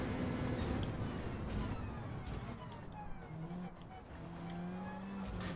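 Race cars roar in a Gran Turismo 7 World Series event, engines droning and shifting pitch as one bogs down, with tire noise and a commentator talking over the continuous racing sound.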